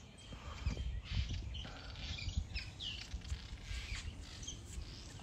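Birds chirp and squawk inside a house in repeated short calls scattered throughout, close and fairly faint over a light patter of background noise.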